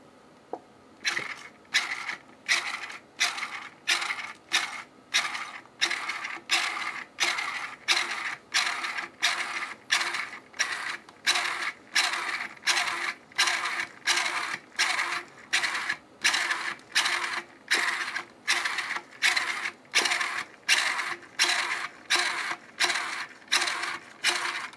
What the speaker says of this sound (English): I'm going to go ahead and crank it.